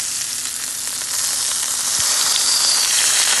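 A birria taco with melted cheese sizzles loudly and steadily in a hot pan, with a brief scrape partway through as a spatula slides under it to flip it.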